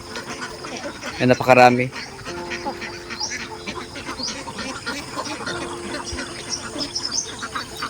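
Ducks on a duck farm in Mindoro, fed on feeds and water lily, give a loud burst of close quacking early on, then continue faintly in the background beneath someone talking.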